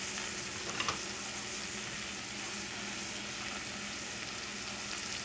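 Ingredients sautéing in a pan for chasseur sauce, a continuous soft hissing sizzle with one brief clink early on, steady and fairly faint throughout.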